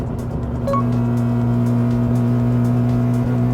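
A Mazda RX-7 rotary engine, running poorly after recently overheating, idles steadily up close with a low, even drone and slight lumpy pulsing, briefly blipped near the start.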